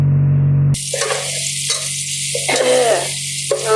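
Black gram lentils hit a hot pan and burst into loud, close frying, a hissing sizzle that pulses with stirring after a brief low hum at the start.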